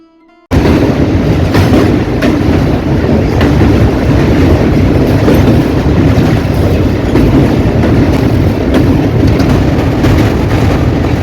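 Loud, continuous rumble of the SMVT Bengaluru Express crossing the Mahanadi river bridge, heard from close by, with a steady rattling roar that starts abruptly after a brief quiet moment.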